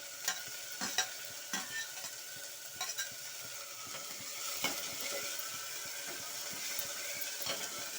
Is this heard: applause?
no